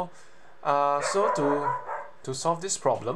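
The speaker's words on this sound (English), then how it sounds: "pardon the dog" A dog barks and yips in a room during a programming tutorial. Several short barks come early and then again near the end, mixed with someone talking nearby.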